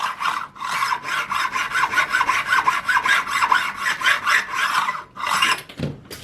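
A leveling beam is rubbed back and forth along guitar frets, making a rapid series of close, gritty rasping strokes in steady rhythm, with a brief pause near the end.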